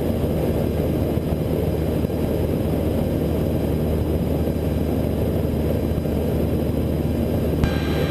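Cessna light aircraft engine droning steadily in flight over the Enumclaw practice area, a loud continuous low roar heard from inside the cabin with no breaks.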